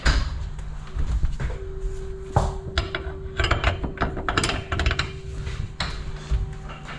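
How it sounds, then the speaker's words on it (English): A ratchet strap is cranked tight over a load on a delivery truck during a storm, with rapid clicking pawl ratchets and clunks close by, against a steady background hum. "pull it tight, crank it down."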